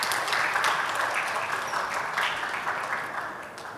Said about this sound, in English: Give applause to Mr. Jakapat Kongro.